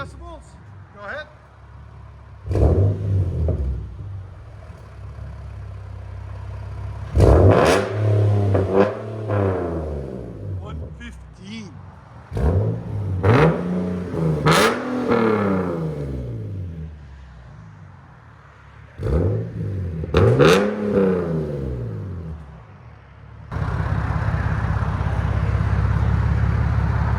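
A 2010 Nissan 370Z with a 3.7L V6 and Vibrant resonator exhaust, revved in several rising and falling bursts with idle between, loud and close, with people talking in between and over it.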